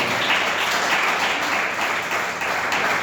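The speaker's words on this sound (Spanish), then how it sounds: "Vamos a dar un fuerte aplauso a su santo y divina palabra" A church congregation bursts into strong, dense applause at a sermon, the clapping steady and loud for the whole stretch.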